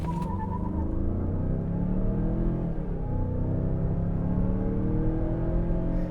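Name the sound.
2022 Mazda CX-9 accelerating 0 to 60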